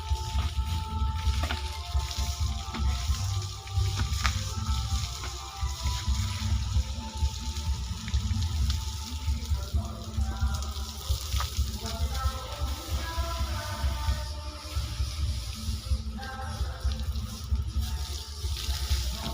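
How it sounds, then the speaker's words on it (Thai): Tap water poured over a cast Buddha amulet statue, a steady splashing and trickling that runs continuously at moderate volume from start to finish. "น้ำใสเย็นสบาย น้ำประปาหลวงพ่อนะครับ"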